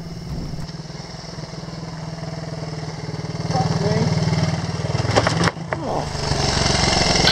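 A motorcycle engine labors up a steep rocky trail on a cross-country off-road route, a loud, steady close-up drone that rises in intensity partway through, with brief knocks and scrapes over the rough ground.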